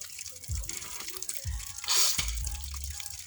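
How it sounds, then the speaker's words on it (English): Water splashes quietly in a few separate bursts with small drips between, as someone rinses the nose during Muslim ablution. "After that, you rinse your nose"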